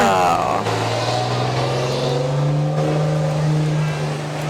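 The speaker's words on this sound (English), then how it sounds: "I think that might have been a 1930 Model A Ford also, Bud Van Scoik." A 1930 Ford Model A drives along in a Fourth of July parade, its steady low engine drone holding close and fairly loud throughout, with crowd voices and talk mixed underneath.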